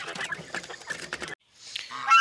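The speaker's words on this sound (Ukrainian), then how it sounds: "Вже півники починають так, такі деякі звуки цікаві видавати." Young roosters on a backyard farm making honking, squawking calls in quick irregular bursts, fairly close, followed by a brief pause and a fainter, higher call, with no talk.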